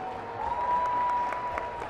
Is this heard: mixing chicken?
no